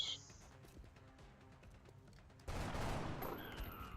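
Gunfire in the video game XCOM: Enemy Within, with a sudden loud burst of shots after a quieter stretch of game ambience, ending in a ringing tail.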